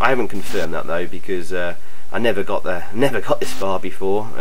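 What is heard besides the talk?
No everyday noises stand out.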